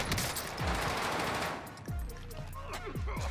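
Automatic gunfire bursts in the Warzone Pacific video game, a loud, dense volley for the first second and a half, followed by a few separate sharp shots and thumps at closer range.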